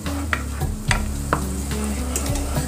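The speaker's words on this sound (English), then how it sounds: "Just keep stirring it." Three cloves of minced garlic frying in a pan, a constant bright sizzle broken by a few scraping strokes of a spoon, close and steady with no speech.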